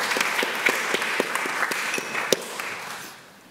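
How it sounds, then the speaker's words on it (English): An audience applauds after a panel speaker, Kevin, at an academic talk: a steady wash of clapping with a few sharp individual claps, fading out near the end. "Can we give Kevin a round of applause at this stage?"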